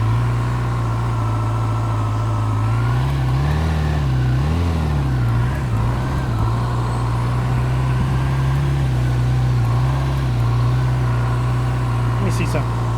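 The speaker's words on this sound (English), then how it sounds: "I can still listen to his engine." Motorcycle engine putting along during slow-speed practice riding with tight turns, a steady low rumble that rises and falls slightly as the rider modulates throttle, heard close alongside a person talking.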